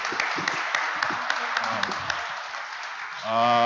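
Audience applause at the closing ceremony of the Republic KINO film festival, held in the Russia – My History park in Yakutia: a steady wash of many hands clapping, with voices over it and a sung or spoken tone rising at the end.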